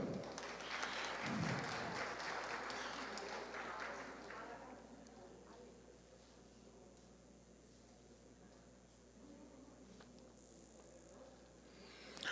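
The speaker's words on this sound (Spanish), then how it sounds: "Aplausos para él." Applause at a formal accountability report presentation, a quiet, distant ripple of clapping that swells early and then fades into a low room hum.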